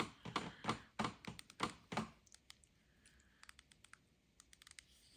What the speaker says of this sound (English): Nice audible clicking spool tension knob.